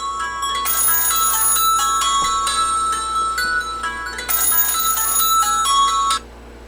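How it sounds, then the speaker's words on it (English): A mobile phone ringtone rings loud and close in repeated bright melodic bursts, pausing briefly between phrases, with no one speaking over it. "Whoops, there goes my phone."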